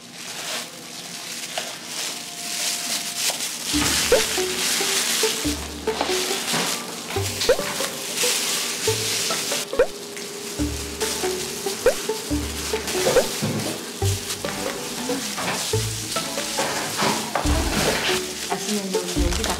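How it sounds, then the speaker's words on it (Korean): Spatula folding and cutting through a thick cookie dough with broken Oreo pieces in a mixing bowl: steady scraping, stirring and soft tapping strokes at close range with no talking. "뒤집고 갈라주면서 오레오 한번 또 뒤집고 이런 식으로 이렇게 섞어주시면 되세요"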